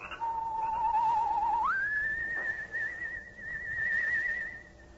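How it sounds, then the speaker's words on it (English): A soft whistled signal drifts through the still night air in a radio drama, one steady held tone that jumps up to a higher sustained note and wavers, clear and alone against quiet background hiss. "a soft, whistled signal rides the still night air"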